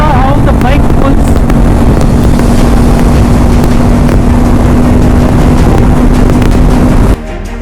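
Heavy crosswind buffeting the microphone on a Honda Transalp motorcycle at highway speed, a loud, continuous roaring rush mixed with engine drone that drops off sharply near the end.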